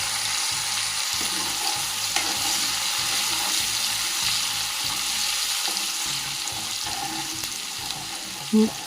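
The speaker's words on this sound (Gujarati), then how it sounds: "હવે તેમાં એક ચમચી હિંગ ઉમેરીશું અને આદુ મરચાં લસણની પેસ્ટ ઉમેરી મસાલા બરાબર સાંતળી લેશું" Asafoetida and ginger-chilli-garlic paste with spices sautéing for a black-eyed bean curry, a steady close sizzle with light stirring scrapes throughout and a brief louder knock near the end.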